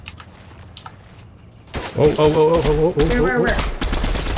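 A few faint, distant gunshots crack in a Fortnite battle royale match before voices start talking over the game noise.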